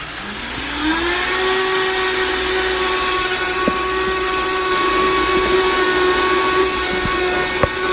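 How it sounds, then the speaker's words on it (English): A Vitamix blender whirs steadily at high speed, packed with cilantro, its motor pitch rising over the first second then holding a loud, even drone with a few faint clicks, no talking. "All that cilantro in my Vitamix makes it look a little harder."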